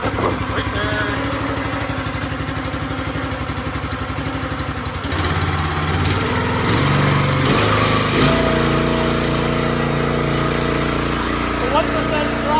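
A Predator small gas engine on a log splitter runs loud and close with a steady chugging drone, choked at first, then shifting pitch as throttle changes, with voices talking over it.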